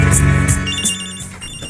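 A cellphone rings inside a knapsack, sounding a few loud, repeating electronic tones in quick succession that fade over a couple of seconds.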